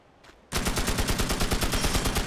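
An M60 machine gun in Magicka starts after a brief quiet moment and fires a loud, steady automatic stream of rapid, evenly spaced shots close up until the end.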